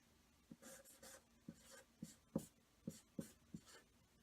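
Writing on a board, a quiet series of short scratchy strokes and taps at irregular intervals, close but faint, with no voices.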